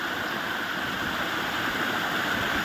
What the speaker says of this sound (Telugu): బండల మధ్యలో నుంచి వాటర్ వస్తున్నాయి.